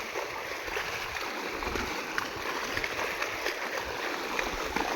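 Floodwater after a storm rushes steadily, a continuous broadband wash of flowing water with occasional splashes, close and fairly loud throughout.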